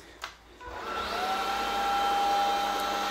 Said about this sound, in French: on a l'aspirateur qui s'allume